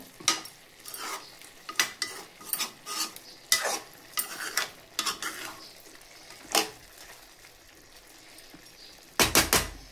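A spoon stirs chicken curry in a pot, with a series of scraping, clinking strokes at an irregular rhythm, then a louder clatter of metal near the end.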